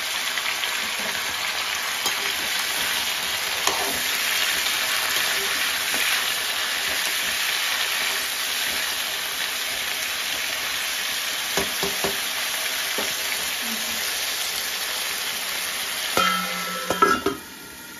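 Steady, even sizzling of potatoes frying slowly in a pan on low heat, continuous and close, with a few soft clinks near the end.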